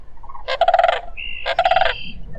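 Two loud, clear rolling bugle calls from a sandhill crane in a marsh, each lasting about half a second with a short pause between them, while a red-winged blackbird sings its trill in the background.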